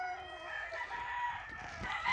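A Perelló gamecock rooster crows close by in one long, sustained, strongly harmonic call that fills the moment with no other sounds.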